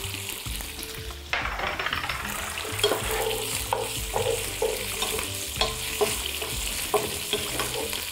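Lamb sizzles in a pot with a pinch of cumin seeds and thyme sprigs, the hiss jumping louder after a quiet opening, then carrying on with steady stirring scrapes and clinks.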